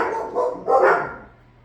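Household dogs barking, one of them Ginger or Scout, giving a few close, loud barks over about a second before fading out, with no talking.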